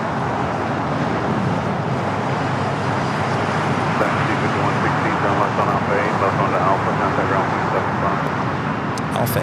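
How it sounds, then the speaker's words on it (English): A Boeing 777 freighter touches down on the south side at LAX, producing a continuous broad jet roar heard from a distance that holds steady throughout, with faint voices mixed underneath. "Freighter touching down here on the south side."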